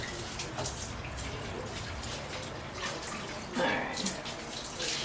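Rabbit giblets are rinsed under a running kitchen tap, a steady close hiss and splash of water that lasts the whole time, with brief louder splashes near the end.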